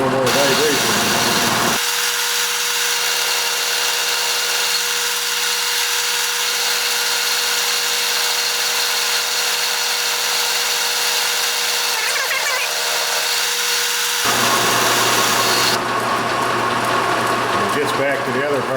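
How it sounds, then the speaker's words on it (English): A metal lathe takes an interrupted cut on a cane mill part, giving a loud, steady mechanical drone with a vibrating rattle; the tone shifts as the cut starts and ends. "I thought with it being an interrupted cut, it would give me a little more vibration."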